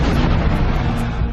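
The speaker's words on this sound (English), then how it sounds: "explosions rock the stadium as millions watch on live TV" A heavy, sustained booming blast from an explosion at the Stade de France stadium in Paris during a France versus Germany match, loud and dense across the whole moment.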